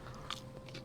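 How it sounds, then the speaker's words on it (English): Faint, close crunching as someone bites into a snack, two soft crisp bites against a quiet room hum. "sorry if any kind of crunching sounds you hear"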